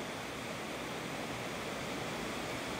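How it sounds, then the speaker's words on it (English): Water pours over a weir on a valley stream beside a bridge, making a faint, steady, unbroken rush with no other sounds. "To the left-hand side of the bridge there's a weir which is carrying the water a bit further down the valley"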